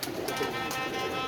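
A brief stretch of continuous low cooing from pigeons in a loft, soft and close, with faint higher bird sounds above and no talking.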